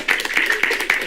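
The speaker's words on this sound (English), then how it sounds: "clap." A small group at a vegan spiritual talk gives a short burst of hand clapping, five or six quick, distinct claps heard up close over about a second.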